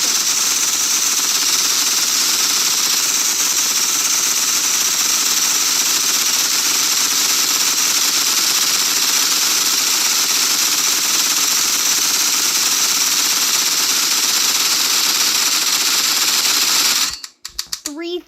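Roblox Rivals primary weapon firing nonstop, a loud dense rapid mechanical rattle that runs for about seventeen seconds before breaking off into scattered noise.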